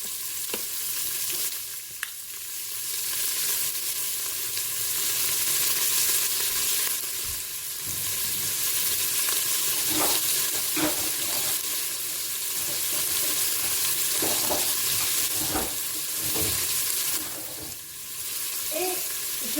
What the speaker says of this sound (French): Je mets mes lardons.